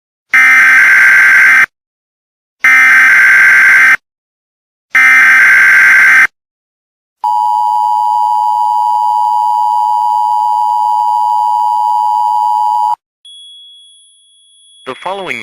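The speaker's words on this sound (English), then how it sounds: "This video contains valid EAS tunes, so enjoy." Emergency Alert System attention signal: three long buzzy data bursts separated by short gaps, then a sustained loud steady two-tone alarm for about six seconds, followed by a faint thin tone and a brief rising noise at the end.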